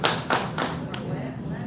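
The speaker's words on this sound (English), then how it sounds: "Round of applause." Brief burst of audience clapping at a live comedy show, a few quick hand claps rising and fading under a steady crowd murmur, close and moderately loud.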